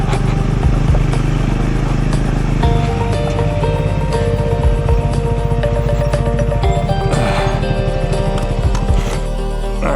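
A Triumph Scrambler 400 X motorcycle rides on a desert trail with a loud, continuous engine drone and rising and falling revs, with wind rushing past and some low talk.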